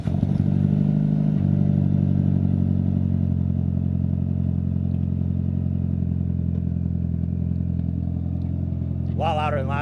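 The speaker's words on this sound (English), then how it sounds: "let me get a little cold start with the titanium exhaust" A Mitsubishi Evo VII engine with a big turbo and titanium exhaust idles low and rumbly after a cold start, with a deep exhaust drone holding steady and a brief rising rev near the end.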